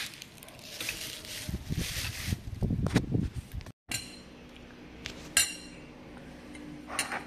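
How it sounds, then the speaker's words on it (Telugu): Freshly picked leaves go into a kitchen mixer jar with light rustling, hard clinks and knocks of the jar and lid, and a brief dropout before quieter handling noises and a sharp tap near the end. "ఫ్రెండ్స్ ఈ ఆకునంతా జార్లో వేస్తున్నాను."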